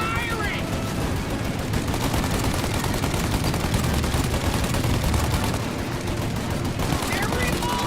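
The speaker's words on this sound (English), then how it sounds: "Shoot now while we got the chance! They're reloaded! Stop it firing!" Dense, continuous gunfire fills a combat scene from Mafia: Definitive Edition, loud rapid bursts layered over a roaring rumble with no pause, with no voices heard.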